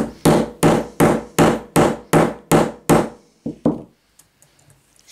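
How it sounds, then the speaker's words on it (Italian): A setting tool is struck with a hammer to fix metal eyelets into a fabric handbag: eight loud, evenly spaced heavy blows, then two lighter taps and faint handling noise, close up with no talking. "e picchiamo con forza, scusate il rumore."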